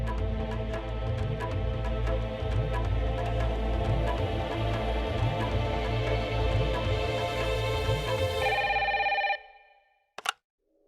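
A steady electronic ringback tone pulses on and on, loud and close, then cuts off abruptly, followed by a brief click.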